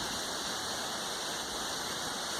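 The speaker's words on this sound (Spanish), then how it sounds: "Pues aquí observando las cascadas" Waterfalls roar at the Puente de Fierro in Huautla de Jiménez, a steady, dense rush of falling water that holds even and loud throughout, with no voices.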